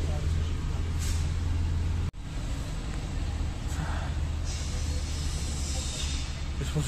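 A city bus on the way to Karlsruhe rumbles low and steady from inside, with a sudden pneumatic hiss of air brakes and a later rising whoosh as it pulls on, under a voice speaking.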